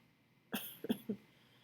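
A short cough fit from a woman who has been ill for over a week: one harsh burst followed by two more close, quiet coughs, near and alone in a silent room.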